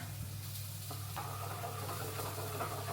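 Food seasoned with black pepper sizzles steadily in a pan while being stirred, with soft scraping of the spoon through the quiet, continuous frying hiss.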